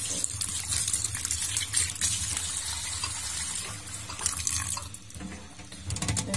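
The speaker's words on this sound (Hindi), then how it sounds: "पानी ऐड कर देंगे" Water pours steadily from a tap over boiled fenugreek leaves sitting in a strainer, a continuous close splashing rush with small trickles and drips.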